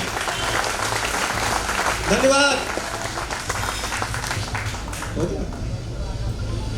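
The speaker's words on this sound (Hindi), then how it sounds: "जोरदार ताली।" An audience at a business meeting gives loud, sustained applause, a thick wash of clapping that continues under a voice speaking briefly over it.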